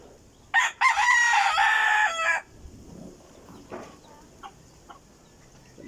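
A six-month-old backyard rooster lets out one loud, close crow, followed by a few faint, scattered clucks from chickens.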